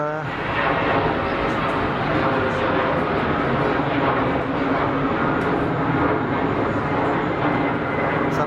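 A steady, continuous jet roar from an Embraer aircraft across the airfield at Geneva Airport, a broad even drone lasting throughout, with faint voices mixed in.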